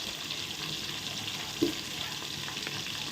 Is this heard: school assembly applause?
no